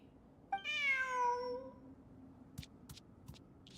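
Cat meowing in the video game Genshin Impact: a single clear, drawn-out meow followed by a few faint clicks, with no talking.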